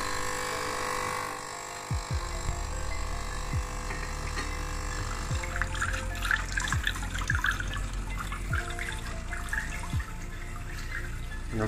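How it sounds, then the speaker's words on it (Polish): Water trickles and drips steadily inside a Jura E8 coffee machine rinsing its filter, with soft periodic gurgles and pumping clicks repeating every second or so, close and fairly quiet. "Następuje płukanie filtra."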